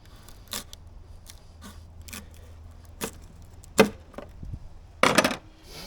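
A knife cutting the node out of a sugarcane stalk, a series of sharp, dry clicks and snaps up close, spaced irregularly against a quiet background.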